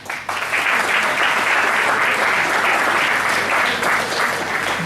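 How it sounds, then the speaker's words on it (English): Audience applause at the inauguration of an institute's research centre: dense, steady clapping from a large crowd that starts abruptly and holds at an even level for about five seconds, with no speech. "I think it deserves a round of applause."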